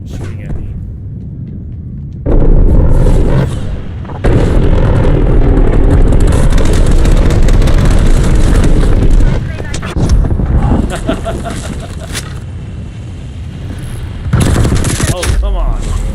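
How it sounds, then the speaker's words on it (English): Loud sustained automatic gunfire and blasts from a video game on an Xbox Series X, heavy bursts with brief lulls between them and speech mixed in. "He's just shooting at me."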